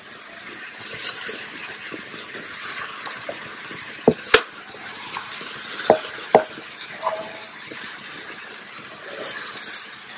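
Rice goes into hot oil with softened onions in a pressure cooker for pulao, making a soft hiss with scattered grainy rustles and a few sharp clinks of a spoon against the metal.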